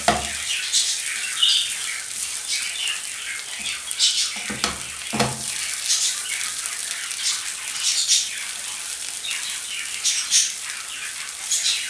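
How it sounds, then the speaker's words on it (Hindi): Potatoes and masala sizzle and fry in a pan, with steady crackling broken by several louder scraping stirs near the start and middle; faint bird chirps sound in the background. "बाकी के पोटैटो डाल के मसाले को फ्राई कर देंगे। इसको अच्छे से भून लें और मिक्स कर लें।"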